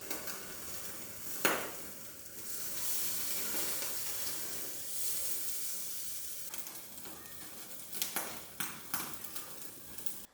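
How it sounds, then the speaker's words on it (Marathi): Tandoori chicken roasts in a kadhai over a high gas flame, giving a steady loud hiss and sizzle. Sharp bursts of spitting break through at intervals, and clatters from turning the pieces sound near the end. Nobody speaks. "गॅस मी मोठाच ठेवते आहे आणि फक्त काय करायचं याला मध्ये मध्ये उलटून पालटून घेत घेत याला छान भाजून घेऊ"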